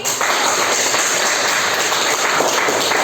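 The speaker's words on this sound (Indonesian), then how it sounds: "tepuk tangan untuk Raffi" A classroom of students claps for a classmate, a short burst of dense, hissing applause that stays even and close for its whole length.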